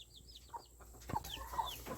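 Backyard chickens cluck in a few short, soft calls, fairly close but low in level, with faint higher chirps at the start and no talking.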